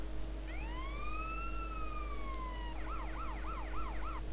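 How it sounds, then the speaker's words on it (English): Police car siren from the GTA San Andreas video game: a long rising-and-falling wail followed by a rapid yelping cycle, clear and alone over a low steady hum. "so the sirens for police cars is number 11"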